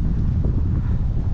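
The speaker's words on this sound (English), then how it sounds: "Wind's picking up a little bit." Strong wind near the ocean buffets the microphone, a loud, continuous low rumbling roar with no break, heard outdoors while walking.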